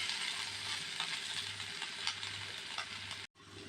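Soft scraping and stirring of potatoes in a pan with a faint sizzle underneath, a quiet continuous rustle broken by a brief dropout near the end.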